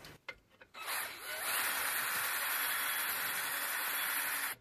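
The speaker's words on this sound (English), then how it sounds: "What I'm using is a carbide burr and just scraping that area to get it down to fresh lead." Carbide burr scraping a soft lead area on an antique fire extinguisher during restoration: a few brief scrapes, then a steady, loud, close rasping grind that holds without pause.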